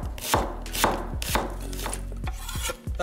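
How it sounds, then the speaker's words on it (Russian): Knife chopping through an onion on a cutting board, slicing it into thin half rings: about seven crisp, evenly paced cuts, close and distinct, with no talking. "И тонкими полукольцами нарезаем."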